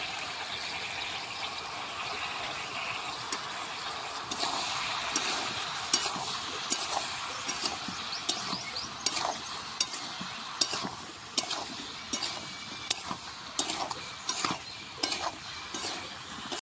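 A ladle stirs spices into a simmering ridge gourd and chana dal curry with potatoes, a steady sizzle underneath and a run of sharp, regular scrapes and taps against the pan growing more frequent toward the end.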